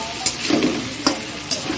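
Tomatoes hit a hot pan and crackle in a close, steady sizzle, punctuated by three sharp scraping clicks of a stirring utensil, with no talk.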